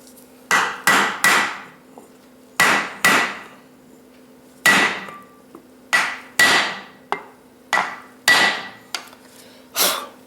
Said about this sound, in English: Now I'll take my bigger hammer. Let's tap that into better place.